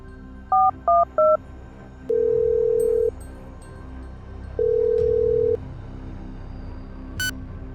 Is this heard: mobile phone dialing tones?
yes